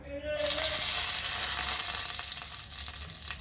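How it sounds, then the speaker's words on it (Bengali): Dried red chillies hit hot mustard oil and burst into a loud, close sizzle that hisses steadily with no voices over it. "তো তেলটা গরম হয়ে গেছে, পুরোটাই সর্ষের তেলে করছি। আমার তেলের মধ্যে আমি দিচ্ছি দেখো শুকনো লঙ্কা"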